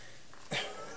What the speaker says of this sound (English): I got a cat talking here